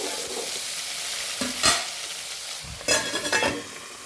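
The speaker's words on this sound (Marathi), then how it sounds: "तर बघा आता मी हे हलवून घेते सगळं" Marinated food frying in a pan with salt added, a steady close sizzle broken by a few bursts of scraping and stirring with a utensil.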